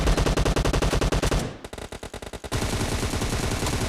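Rapid automatic gunfire in the PUBG Mobile shooter game: a loud, fast burst, a brief pause with scattered shots, then another sustained burst, with no talking.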